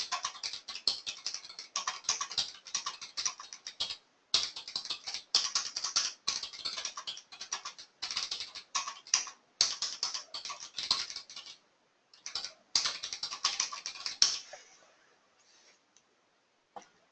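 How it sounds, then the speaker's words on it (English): Fingers type on a computer keyboard in a trading training room, close and crisp, rapid bursts of clicking keys broken by short pauses before trailing off into silence. "You guys could hear my typing."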